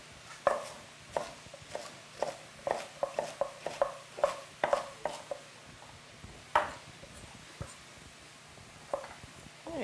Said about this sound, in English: I'm cutting some bok choy